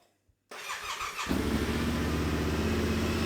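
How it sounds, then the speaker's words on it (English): A Yamaha Tenere 700 motorcycle starts up with a brief cranking whir, then its engine catches and settles into a steady, loud, close idle with a throbbing rumble. "So the bike runs nice."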